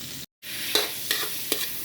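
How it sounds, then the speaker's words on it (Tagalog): Sardines frying in plenty of margarine in a pan, a steady close sizzle with a few sharp pops and spatters after a brief silent gap. "Sardinas ang ating ilalagay yan guys."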